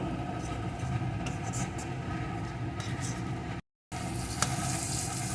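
Egg fries in a pan with pointed gourd, giving a steady, close hiss and crackle of hot oil that runs throughout, broken by one brief cut-out.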